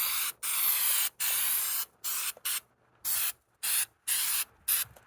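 A black enamel rattle can sprays onto a rusty OBS Ford truck frame in a string of close, hissing bursts, some long and some short, broken by brief silences.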